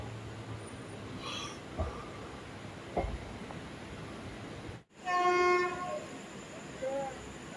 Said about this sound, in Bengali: আমাদের ট্রেন এখন মেচেদা স্টেশন থেকে ডানকুনির দিকে রওনা দিল।